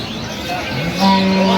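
At Aftabganj cattle market in Dinajpur, where dairy cows and calves are sold, a cow lets out one loud, drawn-out moo close by amid the murmur of the market crowd.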